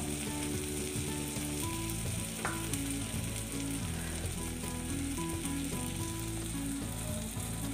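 Spices frying in oil for a Bengali prawn and spring onion dish, a loud, continuous close sizzle with clicking stirring sounds and no talking.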